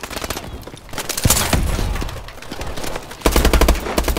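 Rapid automatic gunfire in Call of Duty multiplayer, dense bursts of close, loud shots running through the whole stretch with a heavier volley near the end.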